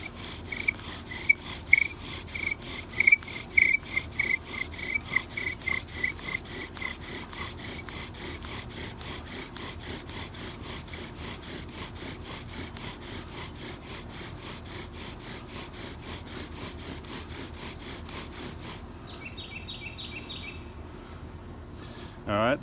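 Bow drill spindle burning into a red maple board, a steady rhythmic back-and-forth sawing friction repeated continuously at close range, with no talk over it.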